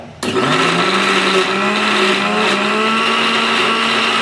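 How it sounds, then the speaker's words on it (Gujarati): Mixer grinder whirring loudly and steadily as it grinds herbs into a fine chutney paste, the motor starting abruptly and then running at constant pitch close up, with no talking. "એકદમ બારીક ચટણી કરવા માટે આપણે એને મિક્સચરની અંદર"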